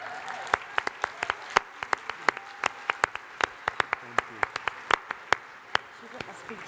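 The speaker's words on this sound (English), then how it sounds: "If you could give the councillors a huge round of applause" An audience at a youth summit plenary session gives the councillors a round of applause: sharp individual hand claps ring out close by over a softer spread of clapping, steady and fairly loud across the whole stretch.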